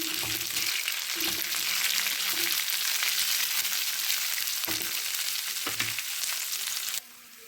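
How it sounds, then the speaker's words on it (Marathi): Coriander and green chillies sauté in a hot pan for a green chilli kharda, giving a loud, continuous sizzle with occasional stirring knocks before the frying noise drops away at the end. "एकच मिनिट कोथिंबीर परतून घ्यायची"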